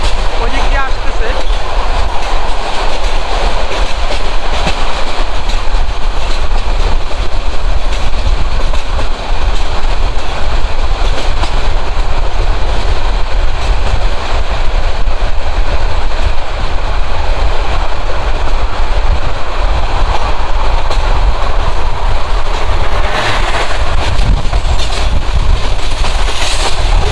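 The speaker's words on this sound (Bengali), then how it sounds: "এখন কিন্তু সামনে আরেকটা ট্রেন দেখা যাচ্ছে, ওই দিক দিয়ে আসতেছে।" Mohanganj Express train running steadily at speed while another train approaches on the adjacent line; continuous loud rumble with rolling wheel clatter throughout, close and unbroken.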